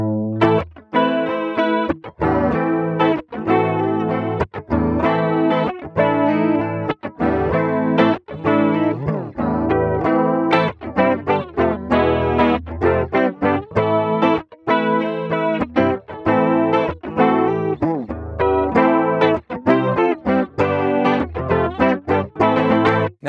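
Electric guitar played through a high-impedance input, an 1176 compressor, a Neve 1073 EQ and a Roland CE1 chorus: a shimmering, slightly gritty tone with sustained notes and chords played continuously, with no voices.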